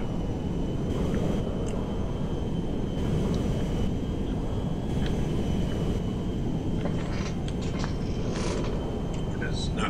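A jet plane's engine in Grand Theft Auto V gives a steady, loud broadband roar that holds evenly throughout, with a few faint higher clicks and tones over the top.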